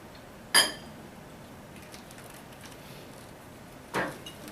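Two sharp clinks of a utensil against a bowl while soy sauce and rice wine vinegar are mixed, one early and one near the end, with quiet room tone between.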